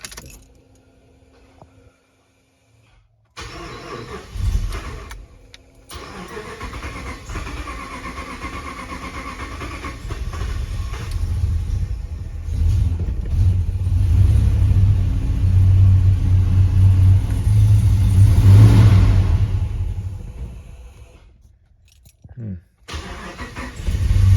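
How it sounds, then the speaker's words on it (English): A Hemi-swapped Jeep Grand Wagoneer after a sensor replacement: keys jingle, the starter cranks, then the V8 catches and settles into a loud, steady, rumbling idle that swells and eases before fading near the end. "So let's just see if it will crank up."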